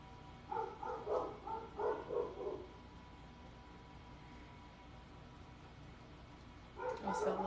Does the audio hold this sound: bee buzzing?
no